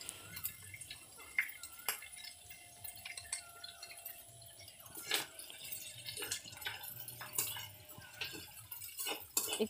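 Chili powder is stirred into oil in a cooking pan, with faint scattered clinks and scrapes of a utensil against metal and a soft sizzle in a quiet kitchen.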